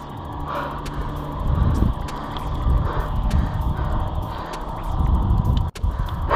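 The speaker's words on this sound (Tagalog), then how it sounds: "Pakinggan mo lang ihunin ng sasakyan." A car engine drones steadily under load on a 5 km uphill climb, with a rumbling low hum and road noise that swells and eases as it climbs.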